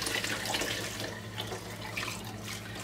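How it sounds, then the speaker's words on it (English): Hot water running from a kitchen tap, a steady close splashing flow with faint gurgles, fairly quiet and continuous. "Then I'm going to add some just hot water from my tap."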